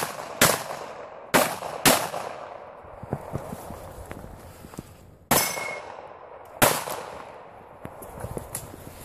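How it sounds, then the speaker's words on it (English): Gunshots at an outdoor 3-gun match stage, fired while moving: several loud, sharp cracks in two uneven bursts, with quieter shuffling and clatter between them and no talk. "Shoot on the move."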